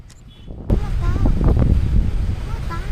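Strong gusty wind in Tenkasi buffets the microphone, a low rumbling roar that swells after a quiet start, with a voice faintly audible underneath.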